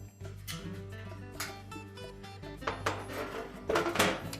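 An old metal oven bottom panel is lifted and slid out of a Frigidaire range, giving scattered metallic scrapes, clunks and rattles close by, with a louder clatter near the end.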